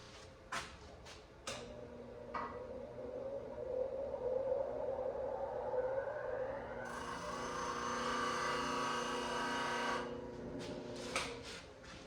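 Woodturning tool edge being sharpened on a grinder, a rising whine of the wheel running up, then a steady bright grinding hiss for a few seconds, with light knocks and clicks before and after, no speech.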